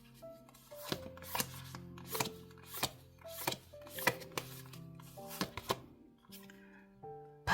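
Oracle cards shuffled by hand during a reading, a series of sharp close riffling snaps and soft rubbing sounds at irregular intervals, heard alone.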